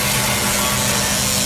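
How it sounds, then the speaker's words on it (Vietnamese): Saw grinding steadily through a pig carcass in the meat-processing game Meat Shift, a continuous raspy woody rasping with no pauses, loud and close throughout. "À đúng rồi, tiếng cưa heo"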